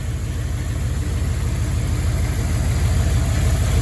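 A 5.2 liter 318 Magnum V8 in a 1993 Dodge D150 long bed pickup with automatic overdrive idles smoothly, a loud, close, steady low rumble with an even pulse.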